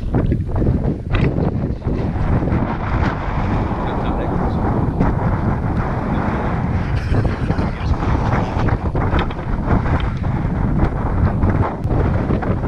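Strong wind gusts over a high mountaintop in North Carolina at about 6,000 feet, a loud, continuous rushing roar buffeting the microphone, with dense low rumble throughout and no clear speech.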